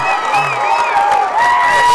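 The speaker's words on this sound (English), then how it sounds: "crowd's so into this" A crowd at a Class D girls basketball regional final between Southern Aroostook and Wisdom cheers and shouts loudly and continuously, with excited high voices throughout.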